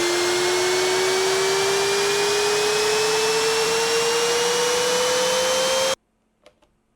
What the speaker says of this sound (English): You need the riser to fit harmonically with your track.